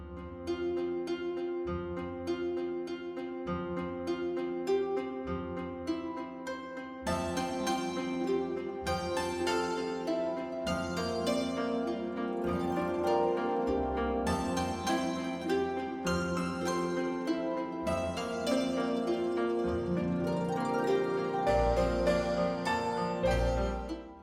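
Orchestrion roll piece from Final Fantasy XIV, a full orchestral track with sustained strings, brass and a steady bass pulse, playing loud and continuous with swelling sections and no talking.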